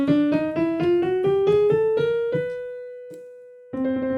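Piano notes played one after another in a quick rising line, about a dozen, the last held and fading before a final note sounds.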